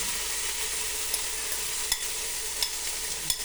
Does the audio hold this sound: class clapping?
no